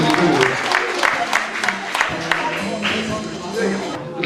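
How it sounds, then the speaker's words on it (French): An audience in a classroom in Montsalvy, Auvergne, claps steadily, a dense patter of applause mixed with murmuring voices and nearby speech. "Beaucoup d'applaudissements"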